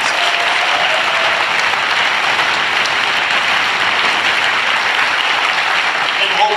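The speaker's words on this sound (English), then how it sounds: "how about a round of applause for all of these?" A rally crowd claps in a loud, sustained round of applause that fills the whole stretch without pause.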